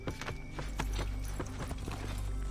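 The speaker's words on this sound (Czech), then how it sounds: "Máme koně, nevěřím." Horse hooves clip-clop steadily in Assassin's Creed III on an old New York street, a quick regular rhythm of close, fairly loud strikes over a low rumbling game ambience.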